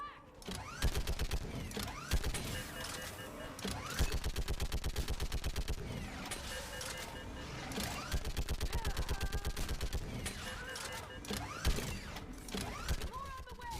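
Sustained automatic gunfire in the Mass Effect 3 video game, loud rapid bursts rattling in long rhythmic strings with brief pauses, amid mechanical clanks and the din of battle.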